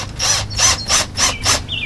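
Screws driven in to mount an XTU J9 Plus doorbell camera into plastic, five rhythmic whirring bursts from a close handheld driver, each about a quarter second, with short pauses between.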